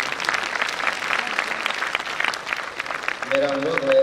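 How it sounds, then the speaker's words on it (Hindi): Applause from a seminar audience, a steady patter of many hands clapping at moderate distance, with a voice speaking over it near the end. "तालियां जरूर बजाइए।"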